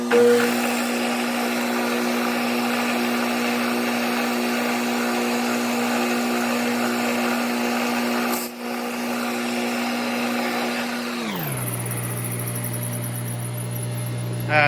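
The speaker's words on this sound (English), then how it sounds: "I had to extend the drill bit down to get through the other side." A power drill with an extended bit bores through scrap metal for a grinder build, a steady whining motor hum for about eleven seconds before it winds down and shifts pitch.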